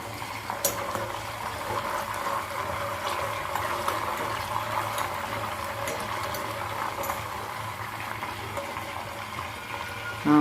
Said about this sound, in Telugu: కాగుతుందండి, లాస్ట్లో ఉన్నాము.